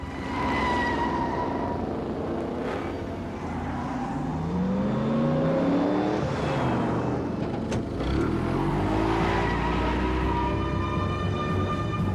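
Cars race through city streets, their engines whining and rising and falling in pitch as they pass close by, with a siren-like wail mixed in. The roar stays loud and continuous, with no talking.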